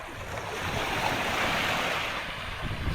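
Ocean waves wash ashore at Salibungot Beach on Jomalig Island, a broad continuous roar of surf with steady wind noise over the microphone.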